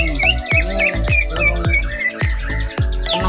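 A songbird chirps at a bird singing contest, with quick bright repeated tweets over a rhythmic series of loud thumping beats from the surroundings.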